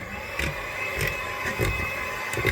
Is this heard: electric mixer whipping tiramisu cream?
yes